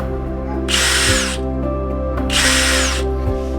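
A small power drill drilling a hole whirs in two short bursts separated by a pause, high-pitched and close, over a steady low motor hum.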